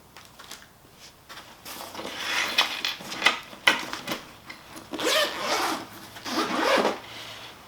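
A zipper is pulled open on a repair business toolkit case, with rasping zip runs and rustling, clicking handling of the case as it opens, close and moderately loud.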